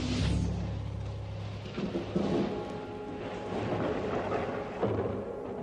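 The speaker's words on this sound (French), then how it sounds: "As-tu vu l'orage qui s'annonce?" Low rumbling thunder of an approaching storm rolls on continuously, with a deeper swell near the start and softer surges later, distant and steady with no voices.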